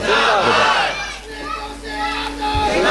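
A crowd at a religious gathering shouts slogans back in unison, loud massed voices swelling and fading in waves across the whole stretch.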